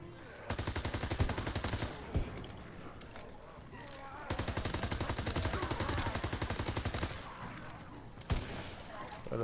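Rapid bursts of gunfire from a Thompson submachine gun in Call of Duty WWII Zombies, two long stretches of fast automatic shots with a few heavier booms, loud and close, with players talking over the action.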